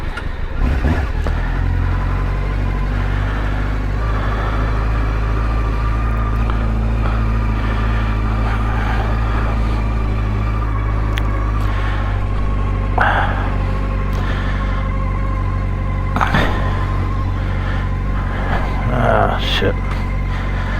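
A 2005 Triumph Daytona 650 sport motorcycle engine runs steadily throughout, a loud continuous low drone with occasional rises in pitch, while someone talks over it.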